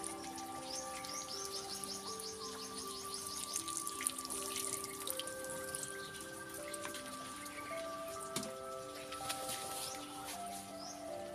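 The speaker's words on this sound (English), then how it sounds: "I make sure to water slowly, allowing the soil to absorb evenly and reach all the roots." Water is poured slowly onto the soil of a freshly repotted Red Balete bonsai. Soft, steady trickling and dripping continue throughout, with birds calling in the background.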